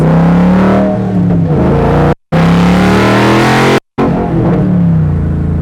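A powerful 1965 Shelby Daytona Coupe engine roars and revs loudly up close, below full throttle, repeatedly climbing and falling, with two brief moments of silence.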